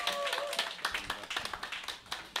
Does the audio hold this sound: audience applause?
yes